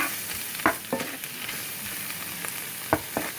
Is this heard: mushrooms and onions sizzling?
yes